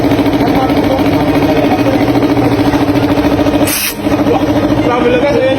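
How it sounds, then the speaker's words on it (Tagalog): An engine idles smoothly and loudly after its knocking was repaired. The hum is steady and continuous, with a brief dip near the end. "Oh, silent na oh. Nawala yung knocking."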